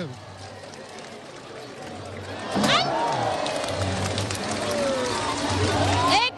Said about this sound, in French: tout le monde est debout pour applaudir ce taureau